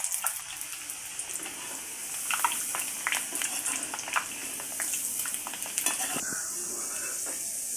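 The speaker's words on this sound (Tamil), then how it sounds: "மிதமான சூட்டில் வந்து நம்ம பொரிச்சு எடுக்கணும்" Oil sizzles steadily with a bright hiss as potatoes fry, punctuated by scraping stirs and crackling pops, close up.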